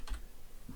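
Fingers type on a computer keyboard, with a couple of quiet, separate clicks set well apart against a low background.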